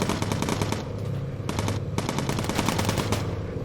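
Rapid machine gun fire rattles in the bomber aircraft game Bomber Crew, long continuous bursts with a couple of short breaks, loud and close.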